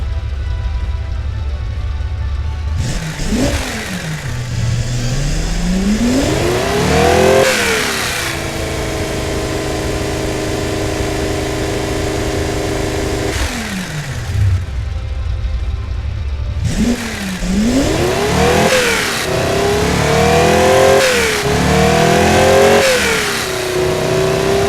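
A limited edition luxury car engine, running on 80 octane fuel on a flow bench, revs up and down in repeated rising and falling sweeps between steady idle stretches, loud and close, with no voices.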